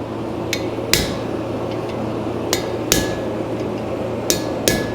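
A hammer striking a round punch into a steel horseshoe held by a holdfast on an anvil, forging a horse head hoof pick: sharp ringing metallic blows in pairs, close and loud over a steady background hum.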